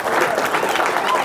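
Audience applause at a talk on the conscious community, a loud, dense wash of many hands clapping close by, with voices mixed in.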